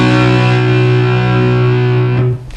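Electric guitar played through an amp with distortion, a sustained two-note chord ringing loud and steady for about two seconds before being cut off, with no talking.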